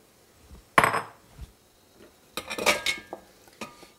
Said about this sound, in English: So let's add our butter and our chocolate.